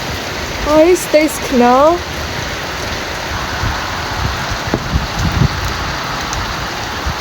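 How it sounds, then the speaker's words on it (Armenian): Steady rain falling outdoors in a yard just after a hailstorm, a continuous even hiss of drops, with a brief voice and a few short tonal calls near the start. "Անձրևը բռնեց"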